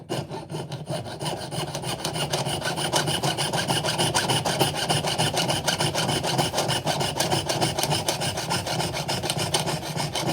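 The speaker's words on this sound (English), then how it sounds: "So now I'm just gonna cut it" Metal being cut by hand with rapid, steady rasping saw strokes while shaping stock for a braided wedding band, loud and close throughout without pause.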